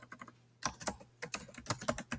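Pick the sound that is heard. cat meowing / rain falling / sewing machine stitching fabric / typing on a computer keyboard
typing on a computer keyboard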